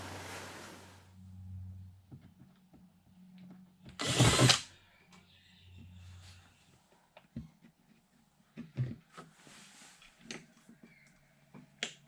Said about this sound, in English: First thing is to drill out the old pop rivets.